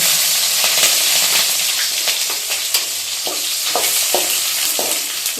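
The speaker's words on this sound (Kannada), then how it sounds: "ಸ್ವಲ್ಪ ಬಾಡಿಸ್ಕೋಬೇಕು ಈರುಳ್ಳಿನ ಸ್ವಲ್ಪ ಕೆಂಪಾಗಬೇಕು" Onion and green chillies sizzle steadily in hot oil for a tempering for a greens and lentil sambar, with close, loud frying crackle and occasional stirring scrapes.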